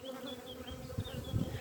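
Honeybees hum steadily and close around an open hive, a low continuous drone with no talk.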